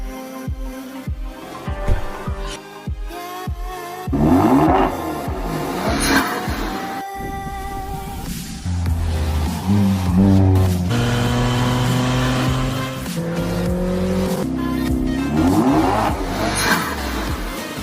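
A Kia Stinger engine with an HKS blow-off valve revs and accelerates repeatedly, rising in pitch through the gears, loud and close, with brief whooshing releases between pulls.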